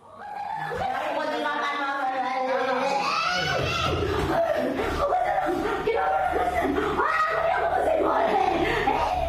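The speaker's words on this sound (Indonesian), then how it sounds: "Jerit tangis wanita ini pecah saat melihat tubuh anak laki-lakinya terbujur kaku tak bernyawa" A woman wails and cries in grief on seeing her son's body at a regional public hospital, loud and continuous with strained, high sobbing voices and other people crying out around her.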